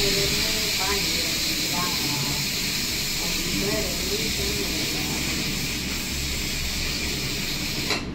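Loud, steady steam hiss rushes from a pressure cooker as its whistle is lifted, a continuous broadband jet lasting throughout with faint voices underneath.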